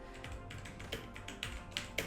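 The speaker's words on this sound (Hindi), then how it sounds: "यहाँ से मैं टाइपिंग प्रैक्टिस कर सकता हूँ।" Light keystrokes on a computer keyboard during online typing practice, a quiet uneven run of soft taps with a few sharper clicks, with no talking.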